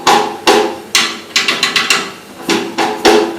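Drum struck on its wooden side rather than the head, a series of sharp hollow knocks in an uneven rhythm with a quick flurry midway, close and loud with no talk.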